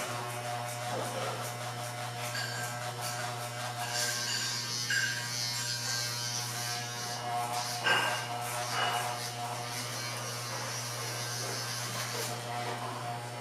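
An electric hair clipper with a number 2 guard and its lever pushed all the way up buzzes steadily while cutting hair in straight passes, staying constant and fairly quiet throughout.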